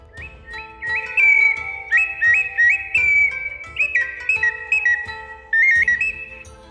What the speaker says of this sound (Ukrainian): Ось так співає іграшка свистунка, схожа на справжню пташку.